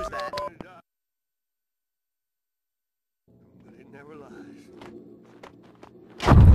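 Keypad tones from a phone being dialed in the Max Payne 2 video game: a short burst of dialing beeps right at the start, then silence, then someone speaking over low game ambience, ending with a loud thump.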